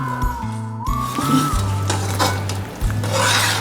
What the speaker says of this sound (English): Allow the masala to fry well.